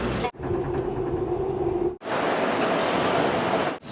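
A train rumbles loudly nearby in Korea, its steady roar and rattle broken by two brief gaps, with a faint whine riding over the noise.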